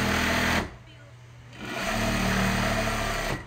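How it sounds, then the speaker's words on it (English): A sewing machine stitches down the edge of a tote bag made from old recycled clothing, running in loud, close bursts with a brief pause between them. "So I'm just sewing down the edge"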